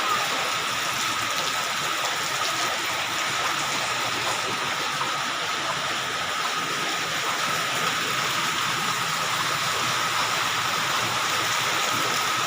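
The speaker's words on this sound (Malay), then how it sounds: "hampir reda hujan ini" Heavy rain pours down steadily over Banda Aceh, Indonesia, in a dense, unbroken hiss that fills the whole stretch at a constant loud level.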